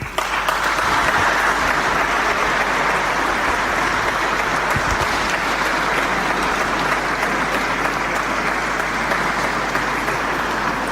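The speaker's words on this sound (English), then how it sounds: "Every athlete received thunderous applause in their felicitation, but it was longer for the chess prodigy" A hall full of people at a national sports awards ceremony gives a chess prodigy long, sustained applause. The clapping forms a thick, even roar that holds steady throughout with no speech.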